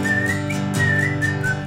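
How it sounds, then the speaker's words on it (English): A person whistles a melody over sustained guitar chords, a clear, close tune with a few gliding notes. "somebody's gonna start whistling"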